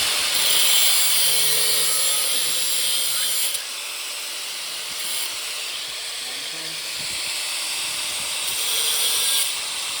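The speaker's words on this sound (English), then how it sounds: "so now we're gonna cut the sprue off Napoleon" A saw grinds through metal, cutting the sprue off a copper casting, with a harsh, steady hiss that eases after a few seconds and carries on more quietly, with no speech.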